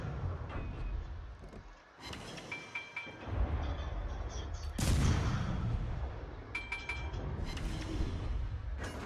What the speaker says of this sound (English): I want to get both guns on him.